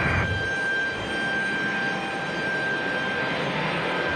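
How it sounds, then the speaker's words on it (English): Southwest passenger jet landing on the runway at Raleigh-Durham airport, giving a steady, loud broadband engine roar with a faint high whine that holds evenly throughout, with no talk. "Very, very smooth, soft landing for Southwest there"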